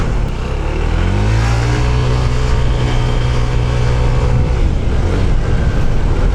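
A Honda ADV 160 scooter engine revving up, a loud, steady motor drone whose pitch climbs as it accelerates, then holds at a high, even hum, heard close with no voices.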